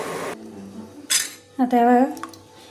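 Ghee being strained into a container: a few sharp metal utensil clinks and scrapes in separate bursts, close and fairly loud, mixed with brief talk.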